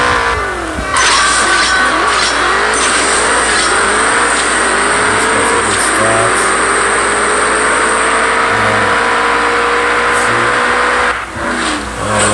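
Racing car engine revving in the CSR2 drag racing game, a loud continuous roar climbing through the gears with rising whines and brief shift dips, steady throughout with no talking.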